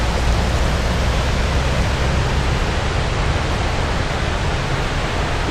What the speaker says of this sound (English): We're at the falls, which we're closer than I thought we'd be. Can you hear it?